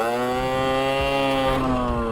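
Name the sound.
stock 50cc motorcycle engine revving for a wheelie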